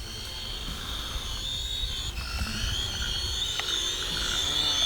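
A BAO NIU HC629W folding-arm quadcopter drone takes off automatically, its small rotors whining in a steady high buzz that rises slightly in pitch and loudness, heard alone and close.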